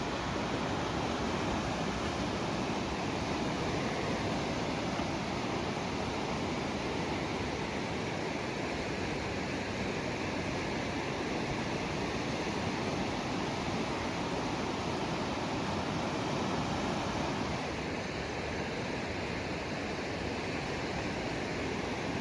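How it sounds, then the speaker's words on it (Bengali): Flowing river water beside a mountain road near Mangan, Sikkim, a broad steady rush that holds constant and fairly loud with a slight shift near the end, no voices over it. "জলের যে সাউন্ড শোনা যাচ্ছে"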